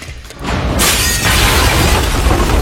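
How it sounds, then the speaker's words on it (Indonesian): A grenade goes off in a film scene: a sudden loud burst with shattering debris that swells and stays dense and roaring for about two seconds. "Six melepas pemicu granat yang membuatnya bisa lolos dari hadangan Hansen"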